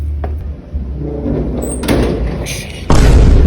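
A door is shut indoors at home, a single loud thud landing near the end after a stretch of household noise and a brief rustle.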